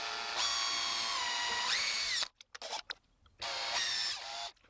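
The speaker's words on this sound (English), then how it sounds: "And lead can be really gummy and nasty and break your drill bits." A power drill boring a 1/4 inch hole into soft, gummy lead for a lure build whines steadily and loudly, drops out in brief stuttering bursts, then resumes; no voices.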